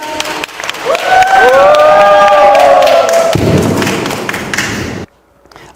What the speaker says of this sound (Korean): 박은수 박사님 큰 박수로 모시겠습니다